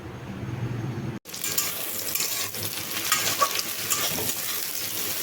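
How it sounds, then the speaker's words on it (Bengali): Onion and tomato fry in a pan: a loud, continuous sizzle and crackle that starts abruptly after a brief moment of quieter sound and stays steady and close, with no talking. "পেঁয়াজটা আগে দিয়ে একটু ভাজা করে নিয়েছি এবার টমেটোটা দিয়েছি একসঙ্গে দুটোই ভাজা হবে"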